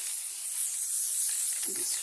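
Spray glue hisses steadily from an aerosol can onto one folded half of a fabric autumn leaves table runner, a continuous loud spray lasting the whole stretch with a faint low knock near the end.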